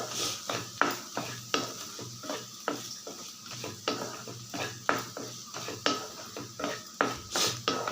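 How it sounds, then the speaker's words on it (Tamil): A spoon or spatula steadily stirs and scrapes a snake gourd stir-fry in a pan, in a regular rhythm of close metallic scrapes about twice a second, with a faint sizzle underneath. "இப்போ இதை நல்லா கலந்து விட்டுடலாம்"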